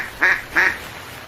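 A duck quacks twice in quick succession, two short nasal calls close by in a quiet setting, a single domestic country duck being sold at a village market.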